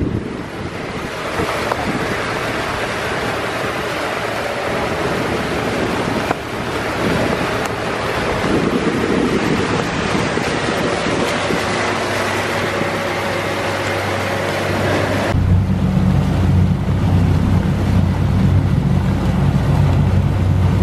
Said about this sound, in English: It's gonna be too windy probably to hear this.